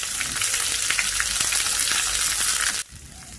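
Small onions sauté in a pan for a village-style Tamil prawn curry, giving a loud, dense, close sizzle with light stirring, which cuts off abruptly near the end, with no talking.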